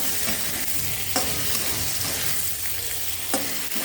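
Pointed gourd pieces dropped into a fried spice paste that has released its oil, stirred in a pan: continuous close sizzling with a few louder scraping stirs and no voices.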